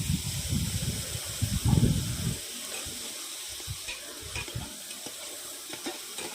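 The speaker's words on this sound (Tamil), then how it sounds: "இது கூட இப்போ மட்டனையும் போட்டு வதக்கிக்கலாம்" Mutton sizzles in hot oil while a spoon stirs and scrapes, busier at first, then settling into a quieter, steady sizzle.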